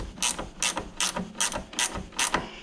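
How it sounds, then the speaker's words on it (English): A small ratchet wrench spins off a sway bar link nut on a C6 Corvette, six quick ratcheting bursts in an even rhythm, close up and alone. "Now, I use a little ratchet wrench. It just makes it easier down here. And you just ratchet it off."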